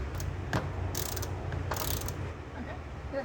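Quick bursts of ratchet clicks sound close up while E20 reverse Torx seat bolts are loosened from the floor of a 2004 Chevy Silverado, with brief pauses between the strokes.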